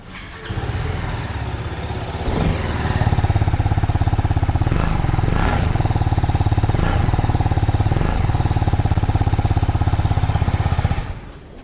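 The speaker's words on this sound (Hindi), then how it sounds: "तो ये थी आपकी BMW G310 RR की आवाज़ काफ़ी ज़्यादा स्मूथ है।" A 2022 BMW G310 RR motorcycle runs its engine and exhaust up close and alone for about eleven seconds, holding a steady, smooth idle broken by several quick throttle blips that swell and fall back.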